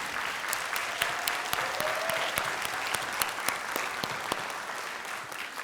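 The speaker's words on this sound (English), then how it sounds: "let's give them a round of applause for all of their work" Families and students clapping at a spring graduation ceremony, a continuous quiet-to-moderate roomful of applause with scattered sharper individual claps standing out.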